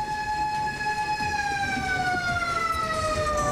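A fire truck siren wails loudly during a typhoon power outage, a steady tone with harmonics that falls slowly in pitch over a few seconds, carried over low road rumble.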